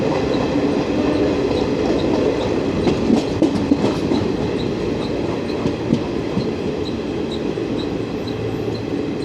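An ICF-coach Jan Shatabdi Express rolls on rails near Kollam on its Thiruvananthapuram–Kozhikode run, giving a loud, steady onboard rumble with rhythmic wheel clicks and occasional squeals throughout.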